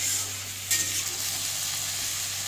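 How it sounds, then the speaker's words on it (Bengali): Onions fry in a pan as potatoes go in, giving a steady, close sizzle with a brief louder burst early on and no talking. "পেঁয়াজ ভাজা হয়ে গেছে, আলু দিচ্ছে"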